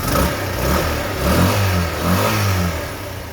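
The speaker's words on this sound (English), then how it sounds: "Can rev it up, it doesn't blow." A Honda XL125S motorcycle engine revs up and down a few times at close range, a rough mid-pitched note swelling and easing back toward idle with no one talking.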